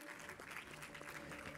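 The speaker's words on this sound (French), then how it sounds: "Sous vos applaudissements, mesdames et messieurs" Applause at a women's summit award ceremony, a dense, steady wash of clapping from a large crowd, heard faintly and at a constant level with a low hum beneath.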